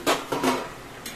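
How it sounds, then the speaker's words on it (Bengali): A lid is lifted off a cooking pot of pumpkin and prawn curry, two quick metallic clanks close together followed by a brief rattle and a faint clink, no voices. "কুমড়ো চিংড়ি যেমন হলো, ঢাকনাটা তুলে নিই।"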